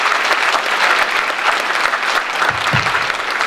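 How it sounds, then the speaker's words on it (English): A crowd at an Army gathering applauds for a soldier from the Old Guard, with steady, dense clapping held at an even level throughout. "So, round of applause for Sergeant Ortiz from the Old Guard."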